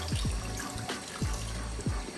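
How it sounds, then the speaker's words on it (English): Raw pork ribs rinsed under running tap water in a kitchen, a steady close stream splashing with several distinct gurgling drops and slurps as the meat is turned; no voices. "Rinse with water until the water runs clear."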